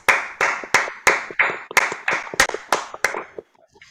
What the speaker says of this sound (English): Let's warmly welcome them with a thunderous round of applause.